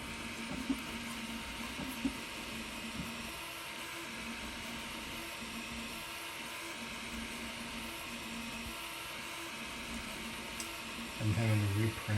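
A Voron 2.4 3D printer runs a flow calibration print, its stepper motors humming and whirring steadily at close range, with a couple of faint clicks and a short louder mechanical burst near the end.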